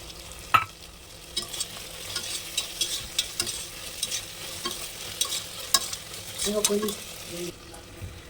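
Paneer pieces with biryani masala stirred in a pan, giving soft sizzling under irregular scraping and tapping of a spoon against metal, close by, with a sharp clink near the start and a brief faint voice.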